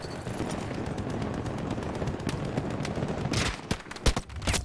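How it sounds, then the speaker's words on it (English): Battlefield 2042 gunfire: a steady rattle of automatic fire and scattered shots from several weapons, loud and continuous, with sharper close bursts near the end. "Everybody's firing at me."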